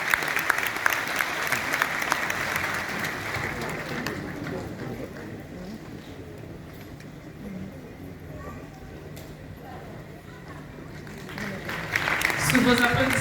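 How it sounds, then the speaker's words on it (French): An audience applauds at a university faculty graduation ceremony, sustained dense clapping that eases slightly midway, then swells again near the end. "Sous vos applaudissements"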